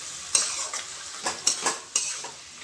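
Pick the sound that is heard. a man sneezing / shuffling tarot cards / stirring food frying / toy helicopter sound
stirring food frying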